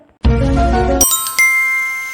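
A phone message notification chime in a Hindi cartoon, a bright two-part electronic ding-dong that rings out loud and clear, then fades away with no talk over it.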